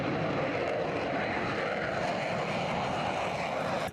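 An AV-8B Harrier II jet roars steadily and loud as a continuous broadband rumble with no speech over it, then fades slightly at the very end.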